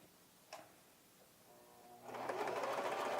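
A sewing machine runs a few quick bar-tack stitches, starting with short faint ticks and building into a steady, louder whirring run of stitching close by.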